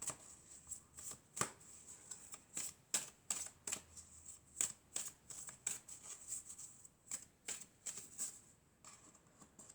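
Tarot cards are shuffled and drawn in a quiet room, making a quick run of soft, crisp slaps and flicks in irregular bursts.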